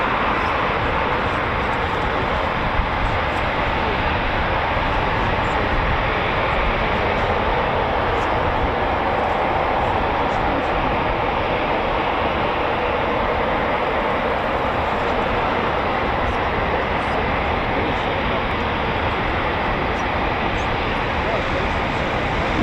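A Eurofighter Typhoon FGR4 jet roars through a performance takeoff at RAF Coningsby, a loud, continuous broadband engine rumble that holds steady throughout with no pauses.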